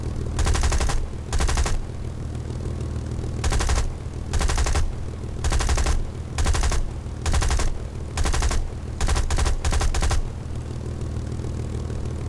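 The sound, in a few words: gunfire in a video game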